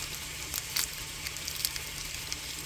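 Urad dal, cumin and red chili sizzle in hot oil, a steady close frying hiss with small crackles and pops throughout, no voices.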